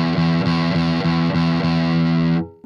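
Electric guitar with the tone knob turned fully up rings out in a bright, distorted strummed pattern with regular chord hits, then cuts off sharply near the end.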